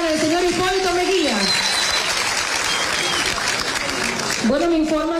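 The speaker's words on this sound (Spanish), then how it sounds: "Les deseo un aplauso para el expresidente de la República Dominicana, el señor Hipólito Mejía." Crowd applause for former Dominican Republic president Hipólito Mejía at a public gathering: dense, sustained clapping filling the room, loud and close, with a voice speaking over the start and the end.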